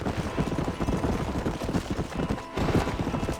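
Horse hooves trotting steadily across open ground in the Western game Red Dead Redemption, a continuous rhythmic clip-clop close by with faint ambient sounds and no talk.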